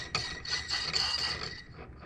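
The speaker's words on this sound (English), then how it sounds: "So 1/2 inch collet goes in." A 1/2 inch collet slides into a milling machine spindle, giving a quiet metallic rasp and scrape with a few small clicks, about two seconds long, close by.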